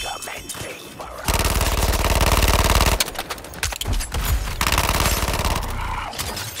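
Heavy gunfire barrage in the Suicide Squad: Kill the Justice League video game, a loud sustained burst of rapid automatic fire with a break in the middle before shooting resumes, mixed with game effects.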